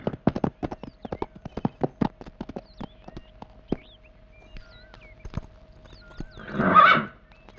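A horse arrives in a period drama setting, hooves clip-clopping in a steady run of sharp, close knocks before a loud, drawn-out neigh near the end.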